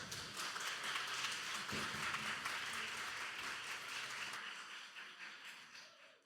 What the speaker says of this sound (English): let's have another round of applause because that was an amazing performance